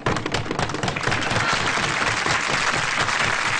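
Steady studio audience applause on a German TV comedy show, a dense even wash of many hands clapping throughout.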